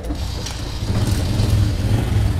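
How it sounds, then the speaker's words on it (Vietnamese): Motorcycle engine just kicked into life and idling roughly, a steady low mechanical rumble with faint clattering, fairly close and without speech. "Đây máy nổ cho các bác, các đại ca ngửa nghe tí."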